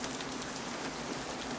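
Steady, dense rain falls on a city street in the film Se7en, an even hiss with no breaks and no talk.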